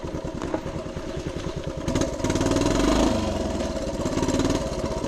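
A 1976 Honda TL250 vintage trials motorcycle runs in third gear on wet ground, its engine putting steadily, then swelling a little louder partway through and holding that low, close, uneven chug with no talk.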